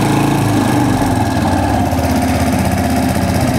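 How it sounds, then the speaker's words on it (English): A Brixton 125 cc motorcycle engine runs steadily at idle, loud and close, with a continuous low throbbing drone and no voices. "we'll start the bike"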